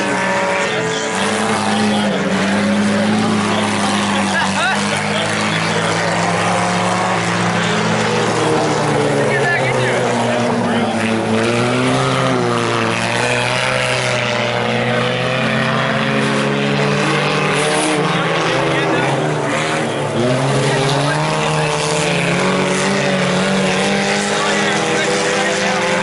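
Front-wheel-drive four-cylinder IMCA sport compact cars race at Salina Speedway, their engines whining loudly in rising and falling revving sweeps that overlap as the pack circles the track.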